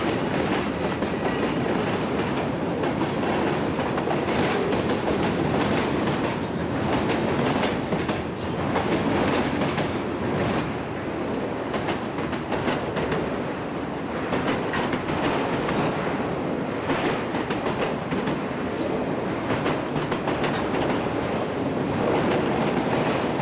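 Freight train Q455 led by two standard-cab GE C40-8 locomotives rumbles past near Jacksonville, a steady loud roar of engines and rolling cars with rhythmic clickety-clack of wheels on rail throughout.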